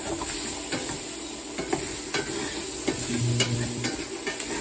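Onions sweating in a hot pan give a dense, close, continuous sizzle and hiss, broken by occasional soft stirring knocks, with no voices over it.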